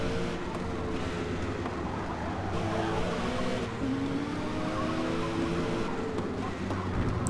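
Race car in the Forza Motorsport racing game, its engine droning steadily and continuously at close range throughout, with shifting tonal whine and a broad noisy wash that may carry tire skids; no voices.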